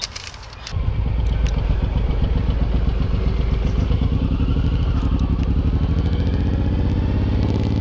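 Suzuki M109R motorcycle pulling away, its big engine rising from a quiet idle into a loud, throbbing, close-up pulse that holds steady as the rider works through the gears.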